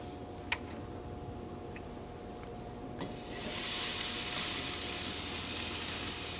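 A steak laid onto a hot grill starts a loud, steady sizzle. It follows a few quiet ticks and grill sounds and then holds at the same level.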